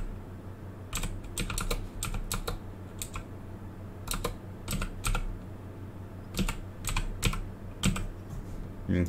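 Rapid, close computer keyboard typing while a phone's IMEI number is entered on a website, with irregular bursts of keystrokes and short pauses over a steady low hum.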